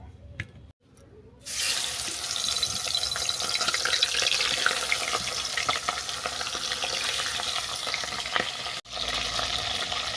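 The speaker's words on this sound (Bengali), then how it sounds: "কড়ার মধ্যে তেল আমি গরম করতে দিয়েছি এবার মাছগুলোকে ভেজে নেব" Salted, turmeric-rubbed bhetki fish fry in hot oil in a wok, a loud, dense, steady sizzle that starts abruptly after a moment of quiet and crackles on, with a brief dip near the end.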